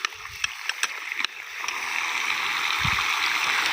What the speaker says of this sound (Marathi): पाणी एकदम व्यवस्थित फुल प्रेशरमध्ये पाणी चालू झालेलं आहे